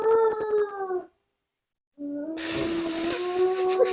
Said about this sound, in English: She growls so much, it's funny.